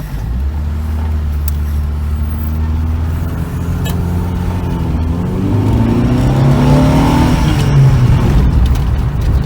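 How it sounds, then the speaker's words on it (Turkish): A Honda car's engine hums from inside the cabin while driving, then the pitch rises as it revs harder, growing louder and climbing steadily toward the end. "Araba dediğim gibi canavar abi."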